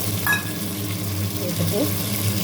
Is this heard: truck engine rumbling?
no